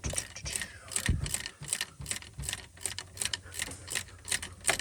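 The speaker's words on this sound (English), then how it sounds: "You want to use the ratchet to get these all the way out" A ratchet loosens the standpipe bolts on a 6.0 Powerstroke diesel engine, giving close, rapid clicking in a steady rhythm with a few heavier clanks of metal.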